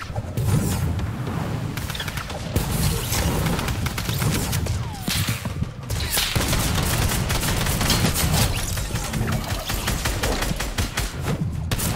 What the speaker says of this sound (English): A bunch of people have shotguns, that's what happened.